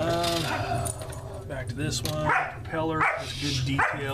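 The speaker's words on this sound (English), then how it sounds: "That's my dog barking" A pet dog barks playfully in the background of a room while someone talks continuously over it, describing a scale model aircraft kit.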